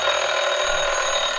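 The Craft Off alarm rings on a craft show, a continuous bright electronic ringing tone, loud and steady throughout with no talking.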